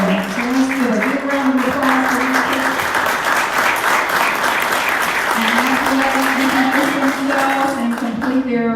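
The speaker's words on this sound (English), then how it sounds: "So let's give a big round of applause" Theater audience applauding performers from The Little Mermaid stage show at an arts council annual celebration, a sustained, loud, dense wash of clapping lasting throughout, with a musical tone sounding beneath it.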